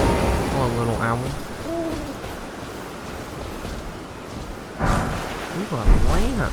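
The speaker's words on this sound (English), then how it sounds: "Oh, little owl." An owl hoots in the video game Elden Ring, a few soft wavering hoots near the start, then a rain-like wash of ambience and more warbling calls near the end as a person talks.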